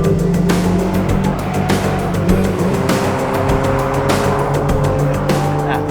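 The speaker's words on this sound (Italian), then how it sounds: "Sentirla andare è uno spettacolo, il mito della Miata nasce con questa macchina qui." An early, freshly restored Mazda MX-5 Miata drives close by, its engine a loud, continuous buzz, joined by tire squeals and rising and falling revs.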